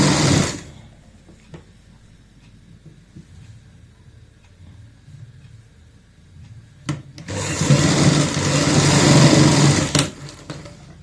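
A sewing machine stitching a half-inch seam on a baby frock's shoulder, bursts of loud fast whirring at the start and again for several seconds near the end, with quieter handling between.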